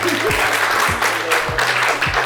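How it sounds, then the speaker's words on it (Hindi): A college audience at APIIT SD India in Panipat claps together in a loud, continuous burst of applause that carries evenly through the short moment. "तालियां बजा दो यार, लड़का ऑनेस्ट है।"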